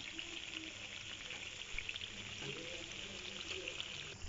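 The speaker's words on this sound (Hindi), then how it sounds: "अब इन्हें दूसरी साइड से भी फ्राई कर लेना है" Mixed vegetable pakoras deep frying in hot oil, a continuous fine crackling sizzle heard alone at low level with a few scattered pops.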